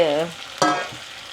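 Potatoes dropped into a pot for a Gujarati potato sambharo with turmeric, giving a brief loud sizzle and stirring burst midway that quickly settles into a softer hiss, with a faint voice at the very start.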